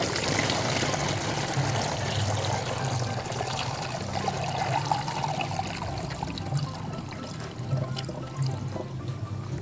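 Kitchen-ash water mixture pours steadily into a bottle for several seconds, a continuous watery splashing and trickling with no talk over it.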